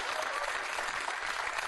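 Studio audience on a comedy panel talk show applauding, a continuous dense clapping wash at an even, moderate loudness across the short stretch, with no voices standing out.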